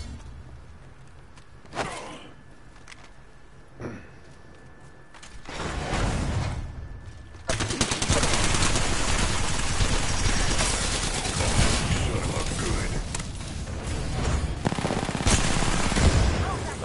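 Prowler SMG fire in a video game: a couple of isolated shots, then sustained loud rapid bursts of automatic gunfire dominating the second half.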